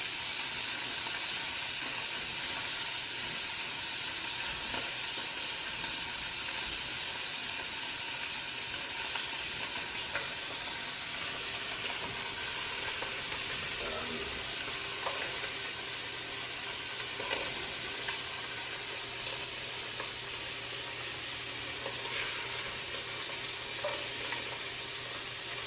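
Pieces of beef stew meat sear in a hot pot, giving a steady, loud, continuous sizzle and hiss throughout with no voices.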